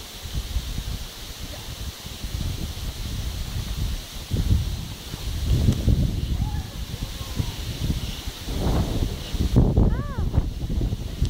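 Wind gusts over the microphone at a Batangas beach resort, a steady low buffeting rumble with leafy rustling that swells in waves throughout, with faint voices at moments.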